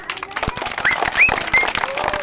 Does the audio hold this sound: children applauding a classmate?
yes